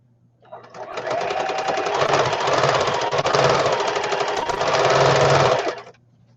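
A sewing machine runs a line of stabilizing stitching across an opening for a custom-sized traveler's notebook, a steady rapid buzz for about five seconds with slight speed swells, close and without talk.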